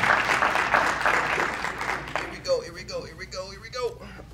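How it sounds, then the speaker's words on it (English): Audience claps for a new team member at an anti-bullying and cyberspace safety school event, a brief dense burst under cheering that gives way to talk. "Let's give him a hand clap"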